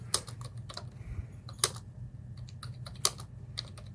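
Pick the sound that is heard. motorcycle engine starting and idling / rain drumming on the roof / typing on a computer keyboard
typing on a computer keyboard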